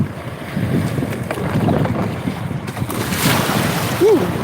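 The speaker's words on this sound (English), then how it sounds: "Waves are big." Wind buffets an outrigger canoe pushing out through big whitecap waves, with a steady roar of wind noise and sloshing water close by and no one talking.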